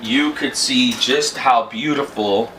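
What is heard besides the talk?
No everyday noise stands out behind the speech.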